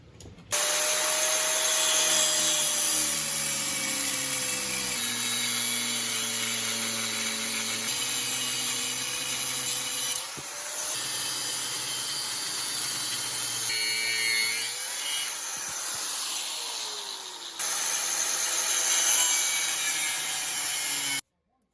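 A power tool cuts through the metal brake bracket ears during a brake install on a third-generation Chevrolet Camaro, a loud, steady high-pitched whine with shifting pitch that runs continuously with a few short breaks, heard alone.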